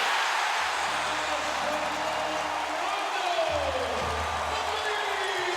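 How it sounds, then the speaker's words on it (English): A basketball arena crowd at an NBA playoff game, Bulls at Celtics in Boston, swells into a broad sustained roar of cheering, loud and continuous under a commentator's voice. "Here comes the crowd, Dan."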